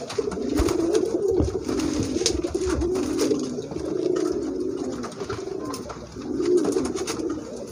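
Pigeons coo in low, throaty, repeated murmurs, close by and continuous, with a few faint clicks and rustles in the background.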